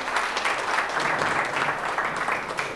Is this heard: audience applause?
yes